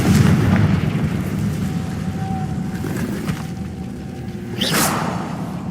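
A Confringo blasting curse goes off in a spell-casting game, a loud rumbling explosion with a deep roar that fades over several seconds, then a sharp whooshing burst near the end.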